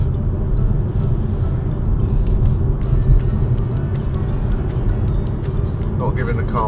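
A car's engine hums steadily while driving in fourth gear with light acceleration in traffic, under an ongoing low road rumble, with a person talking over it.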